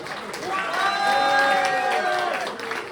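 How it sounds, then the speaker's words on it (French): Audience at a Téléthon stage show in Grand Auverné applauding, clapping swelling up and holding steadily with some cheering voices mixed in, then easing off near the end. "On peut les applaudir encore une fois."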